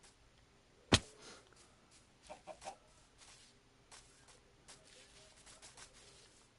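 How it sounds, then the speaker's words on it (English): A Minecraft chicken making a few soft, scattered clucks, faint and intermittent against quiet background, after one sharp click near the start. "That's a chicken, not a sheep."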